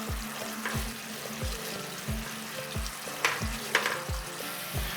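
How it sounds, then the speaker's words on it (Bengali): Spice masala frying on a low flame for a fish curry, giving a gentle sizzle broken by regular low thumping stirs and a few brighter scrapes of a spoon in the pan. "এরপরে আবারও গ্যাসটাকে লো ফ্লেমে রেখে মশলাটাকে কষিয়ে নেব একটু সময় নিয়ে"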